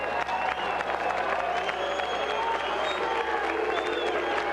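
A crowd at an Extreme Fighting event applauds the fighters after a draw is announced, with steady, moderately distant clapping and cheering filling the whole stretch.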